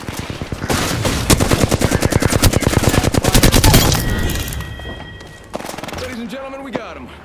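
Rapid automatic gunfire rattles in close, loud bursts during an Apex Legends match, then fades into scattered shots and electronic game sounds, with voices heard near the end.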